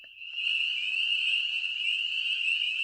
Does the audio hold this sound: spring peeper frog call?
yes